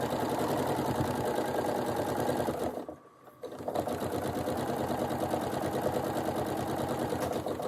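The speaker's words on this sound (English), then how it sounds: "put the presser foot back down, and just continue sewing up the side" A sewing machine stitches up the side of a fabric storage pouch, a steady rapid mechanical whir with a brief pause midway before stitching resumes, close and clear.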